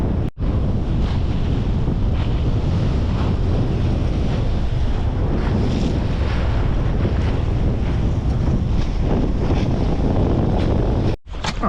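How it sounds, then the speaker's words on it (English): Steady roaring wind buffets the microphone while waves wash and slap around a sailboat heading south into a headwind down Lynn Channel, Alaska; loud and continuous with no talk. "So now we're sailing south down Lynn Channel with a headwind."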